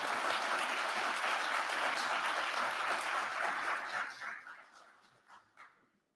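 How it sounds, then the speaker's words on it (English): A round of applause from the audience at a mayor's State of the City address, a broad, steady wash of clapping that fades away over the final two seconds into near silence. "Let's give them one more round of applause."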